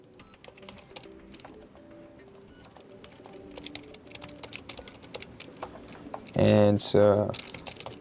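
Keys tapped on an HP OmniBook 5 Flip laptop keyboard, a light, fairly quiet run of clicks under a voice, ending in a couple of louder bursts near the end.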